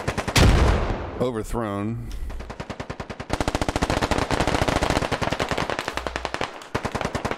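Gunfire in the military shooter game Squad: heavy bursts of rapid automatic fire rattle on for seconds, loud and close, after a sharp blast, with a voice briefly heard.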